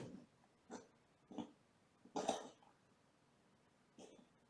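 A kitten gives a series of short, raspy coughs, about five separate bursts spaced a second or so apart, close and fairly quiet.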